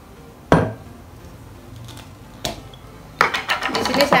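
A metal spoon clinks sharply against a cup while honey is added to a warm drink, with two isolated taps followed by a burst of quicker clattering stirring near the end.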